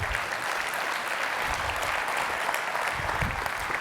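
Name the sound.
audience applause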